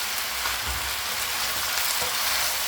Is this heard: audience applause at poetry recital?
no